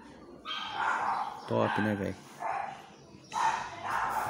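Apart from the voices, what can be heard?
neighbours' dogs barking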